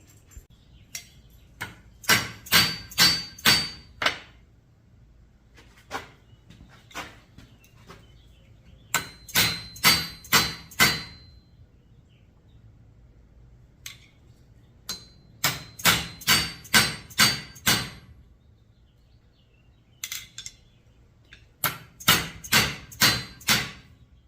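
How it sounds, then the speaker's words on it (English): The brass end of a hammer strikes a blade to straighten it, ringing out in close, loud bursts of four to six quick blows, repeated with short quiet gaps between them. "I'm going to use the brass end of this hammer so we don't scar up our tool at all."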